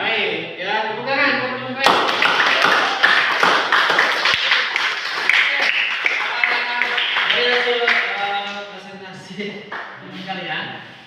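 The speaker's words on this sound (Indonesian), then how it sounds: "Baik, ya, tepuk tangan." A classroom of students applauds after a group presentation during a teaching practice session, the clapping swelling into a sustained, fairly loud patter with voices talking over and around it.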